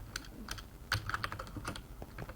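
Fingers tap out a short burst of typing on a computer keyboard during a Minecraft session, quiet close clicks in an uneven run with tiny pauses, no talk.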